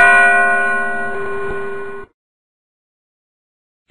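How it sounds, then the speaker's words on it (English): A single bell rings out clearly with a sustained metallic tone that decays, then cuts off abruptly into silence. "Click on the bell to make it ring."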